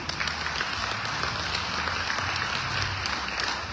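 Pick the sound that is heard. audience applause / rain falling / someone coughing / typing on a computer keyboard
audience applause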